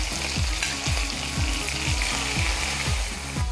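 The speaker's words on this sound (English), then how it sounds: "And now place the beef fillet into the hot oil" Loud, steady sizzling of beef fillet pieces frying in hot oil in a pan, with a rhythmic scraping tick repeating about twice a second underneath.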